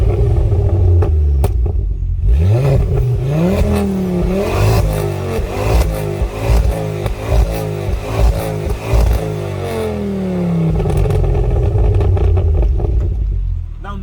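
A Ford Focus ST Mk2 engine runs close by and loud, rising through several sharp revs and falling back, with a rumbling idle before and after the burst of throttle.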